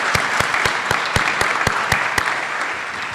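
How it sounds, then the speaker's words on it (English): An audience applauds the flight academy cadets at a university graduation ceremony, with sharp, spaced individual claps standing out over a steady background of clapping. "I want to give you a round of applause for taking the time to do what you did"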